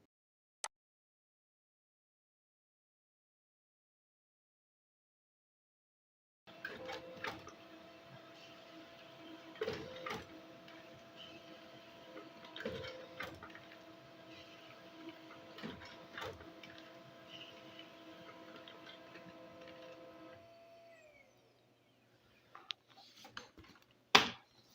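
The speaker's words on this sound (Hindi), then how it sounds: "आप देख सकते हो ये हमारे ऑड पेजेज हैं वो प्रिंट होकर के आ चुके हैं।" An office printer runs through a batch of odd-numbered pages from a Word document, whirring and clicking steadily for roughly fourteen seconds, then goes quiet before a few brief handling sounds.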